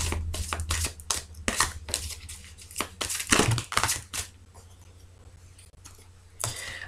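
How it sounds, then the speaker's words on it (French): A deck of tarot cards is shuffled by hand in quick crisp riffles and slides, in bursts with short pauses between them, close and fairly quiet. "Le temps de bien remélanger ce paquet"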